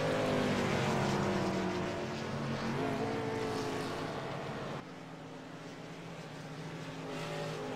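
Race car rolling down pit road during a race gives a steady engine drone with tonal harmonics that gradually eases off, heard at moderate distance, fading slightly toward the end.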